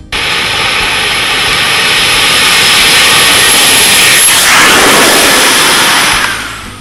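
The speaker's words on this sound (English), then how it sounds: "it would have to be Wayne Springs Biohazard, a ground-up, custom bicycle fitted with a jet engine" Ground-up custom bicycle fitted with a jet engine running at a festival, a loud sustained roar with a high turbine whine that swells briefly and then begins to fade at the end.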